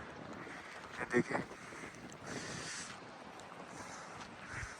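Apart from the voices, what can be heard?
cold wind blowing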